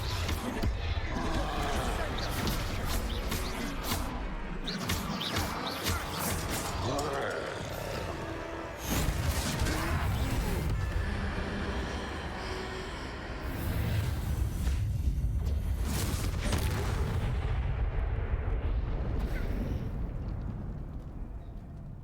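Spell explosions from the Confringo fire spell in a Hogwarts video game troll fight, loud booming bursts over a dense, continuous mix of game effects and music, with voices talking in places.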